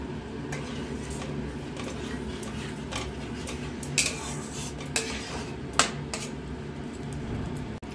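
Curry being stirred in a pan over a low flame, with soft scraping and a few sharp metallic clinks of a utensil against the pan over a steady low background hiss, no talking.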